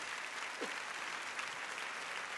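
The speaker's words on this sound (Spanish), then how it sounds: "Le damos bienvenido con aplauso cuando se levante" Congregation applause welcoming visiting guests at a Sunday church service, an even, continuous patter of clapping heard fairly quietly throughout.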